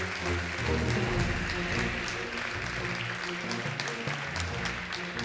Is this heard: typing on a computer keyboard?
no